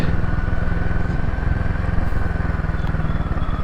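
A motorcycle engine running close by with a loud, steady rapid thumping pulse, continuous throughout with no voices, on a ride toward Kasol in snowy hills.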